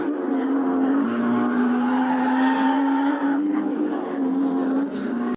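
A racing motorbike, a Chinese Yalon 1600, tears through a high-speed corner, its engine holding a loud steady drone with a harsh tire skid layered over it for several seconds.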